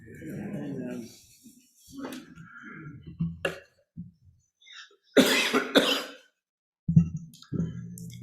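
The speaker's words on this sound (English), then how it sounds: "I got a tickle in my throat just as we started, so I apologize if I cough." A man coughs and clears a tickle in his throat, giving several sharp, loud coughs in short bursts. His quieter speech comes between them.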